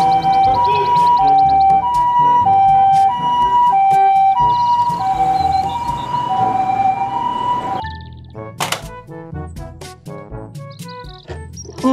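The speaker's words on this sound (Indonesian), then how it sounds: "Mobil, ambulans." A siren wails in a steady two-tone pattern over music-like background sounds, then fades out as other tones and clicks continue.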